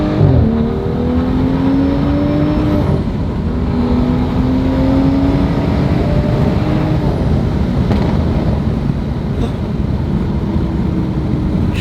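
A BMW 435i with the N55 engine on a stage 2 tune makes a sustained full-throttle pull, its loud engine tone climbing steadily through the gears with brief shift dips, heard from inside the car.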